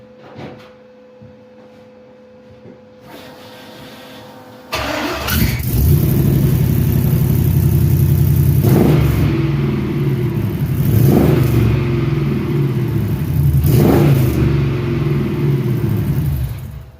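LS-swapped Chevrolet C-10 pickup cranks briefly, catches with a sudden loud start and settles into a rumbling idle, broken by three sharp revs at steady intervals.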